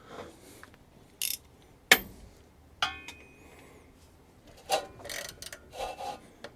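Ratchet and metal tool clicks while working on the seized, collapsed engine of a 1962 Cadillac DeVille, heard as a few short, sharp clinks and bursts of ratcheting spread across a quiet garage, close and moderately loud.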